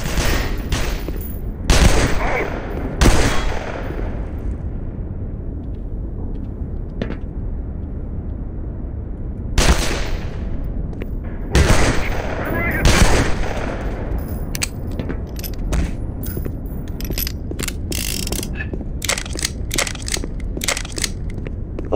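Gunfire from enemies in the Black Mesa video game, loud sharp shots and short bursts cracking at irregular intervals, clustering into rapid volleys toward the end, with no talk over it.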